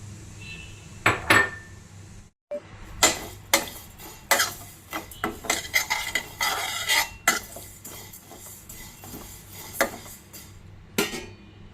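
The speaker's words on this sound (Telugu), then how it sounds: "సేమియా కలర్ మారేదాకా వేపుకోవాలి" Vermicelli being stirred and dry-fried in a pan for upma, with repeated scraping clicks and knocks of a spatula against the pan in irregular bursts over a faint sizzle, no speech.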